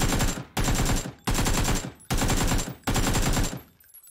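Automatic gunfire from the PUBG video game's training mode rattles in four rapid, loud bursts separated by short pauses, then fades to quiet.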